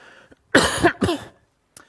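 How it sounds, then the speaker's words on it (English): A pair of sharp, close coughs in quick succession from a man who is ill, followed by a faint short breath. "Sorry for the cough, I'm a little bit under the weather"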